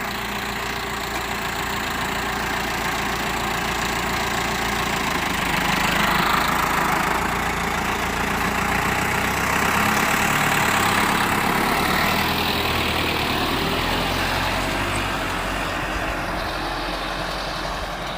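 A Tumosan 8185 tractor with a 15-tine cultivator runs its diesel engine at a steady, heavy drone, close and continuous, swelling slightly in the middle under load.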